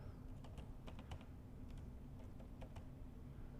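Quiet computer keyboard typing, irregular light key clicks in short bursts over a steady background hum, with no talking.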